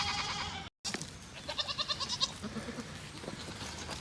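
Goats on a homestead bleating repeatedly in the background, a run of quavering calls at moderate distance over quiet outdoor ambience.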